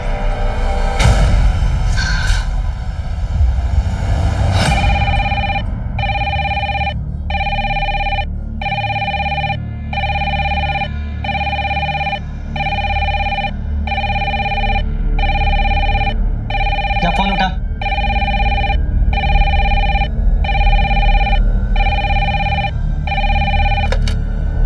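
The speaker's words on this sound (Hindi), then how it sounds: "एक मिनट जी, पेंशन विभाग से फोन है।" A telephone rings steadily in a TV drama scene, repeating electronic bursts in an even rhythm for most of the stretch, loud and close, with a brief clatter partway through and little else around it.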